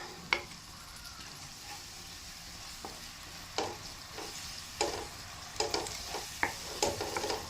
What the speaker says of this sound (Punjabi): ਇਸ ਤਰ੍ਹਾਂ ਤੁਸੀਂ ਕੜਛੀ ਚਲਾਉਂਦੇ ਹੀ ਤੜਕੇ ਨੂੰ ਪਕਾ ਲੈਣਾ ਹੈ